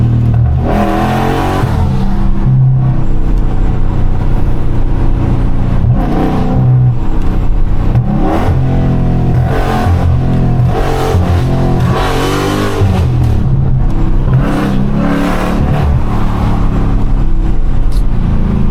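A Dodge Charger Scat Pack driven with no hood gives a loud, deep engine note, rising and falling through repeated revs and accelerations across the whole stretch.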